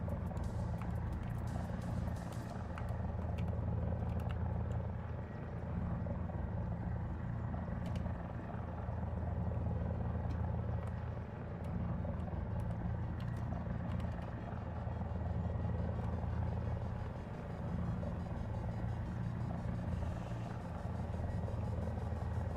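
Steady, loud engine drone of an AMX jet aircraft in the War Thunder game, a dense continuous roar holding evenly for the whole stretch with no voices over it.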